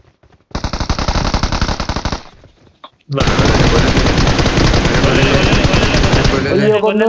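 Rapid automatic gunfire in the battle-royale game BGMI on the Livik map comes in two long, loud, dense bursts separated by a short pause. The second burst runs to the end with faint voices underneath.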